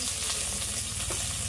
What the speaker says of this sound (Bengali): মাছ ভাজা হয়ে গেছে, লাল লাল করে ভাজি